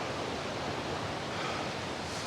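Rushing river water at the Falls of Clyde in Scotland, swollen after rain, pours in a loud, dense, unbroken roar with some wind buffeting the microphone.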